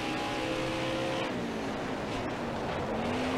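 Race car engine in NASCAR Heat 5 on a dirt track, with the driver losing control: a continuous droning roar with wavering pitch that rises and falls, fairly quiet and steady throughout.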